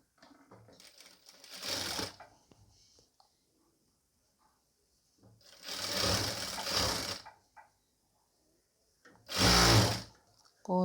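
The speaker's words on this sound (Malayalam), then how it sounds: "എന്നിട്ട് 1/4 ഇഞ്ച് തയ്യൽ തുമ്പിട്ട് സ്റ്റിച്ച് ചെയ്ത് കൊടുക്കുക." A sewing machine stitches piping onto a nighty in three separate bursts of about two seconds each, a close, steady whirring run with quiet pauses between.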